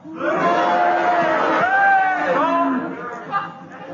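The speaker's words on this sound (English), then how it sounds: "if you agree with Clement's challenge, will you cheer? If you disagree, will you boo?" A 1972 radio panel-show studio audience roars together, a loud blend of cheers and boos rising at once and then tapering off, with a few voices standing out.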